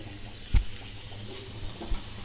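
Water is poured into a mixer grinder jar to rinse it in a kitchen, a short steady splash with a couple of small knocks.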